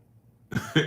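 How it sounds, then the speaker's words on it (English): A single close cough bursts out after a moment of quiet, followed quickly by a second, shorter cough. "As you can hear, I've been coughing a little bit."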